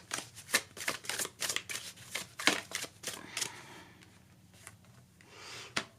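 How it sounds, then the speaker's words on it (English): Oracle cards shuffled by hand in a quiet room, a rapid run of crisp riffling slaps and flutters, with a few pauses and single soft snaps near the end, close and fairly loud. "I don't know why I feel the need to pull 2 oracle cards for each you and your person"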